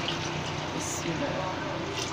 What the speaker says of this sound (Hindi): हमने साथ ही अब इसमें पानी डालेंगे